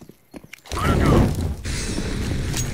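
A Molotov cocktail shatters in Counter-Strike: Global Offensive, a loud glass crash after a few soft clicks, then flames crackling and roaring close by.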